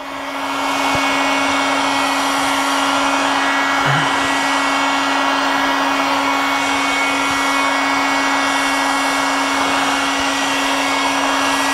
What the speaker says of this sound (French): je démarre donc mon décapeur